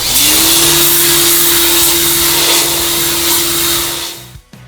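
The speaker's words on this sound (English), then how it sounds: "we'll go straight to the washout booth and we'll pressure wash it off" A pressure washer cleaning ink and emulsion off a printing screen in a washout booth gives a loud, steady motor drone under rushing spray. It winds down abruptly at the end.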